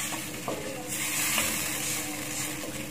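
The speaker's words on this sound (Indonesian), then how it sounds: "ini kita masukkan air santannya ke sini. Nah, kita aduk-aduk rata dulu sedikit." Coconut milk being stirred in a pot for buffalo-meat pindang kudus, a steady soft swishing and scraping with a low simmering sizzle underneath, close and continuous with no talking.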